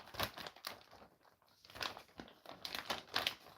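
A plastic ration pack being torn open and handled, giving bursts of crinkling and rustling at close range, loud then pausing, with no talking.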